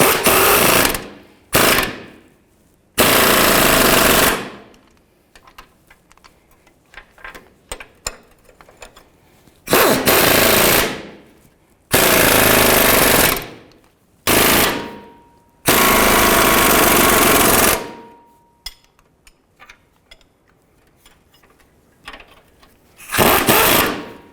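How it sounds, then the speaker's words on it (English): A wrench and socket tightening differential mounting bolts on a 2007-13 Chevy Avalanche, heard as loud bursts of rapid mechanical rattling, several separate runs of a second or two each, with quieter clicks and handling noise between them. "Using a wrench and a socket, tighten these down."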